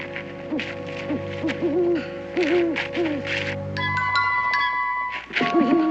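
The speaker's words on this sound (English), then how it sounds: "that ain't nothing but a hoot owl" An owl hoots in a repeated series of wavering, tonal calls, loud and close, over a low background hum, then a bright chiming musical tone sounds near the end.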